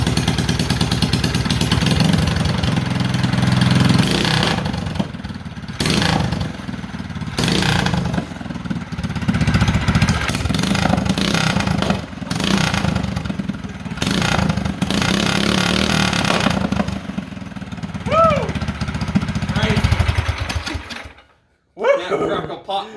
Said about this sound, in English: let's do the first startup with the new jetted and everything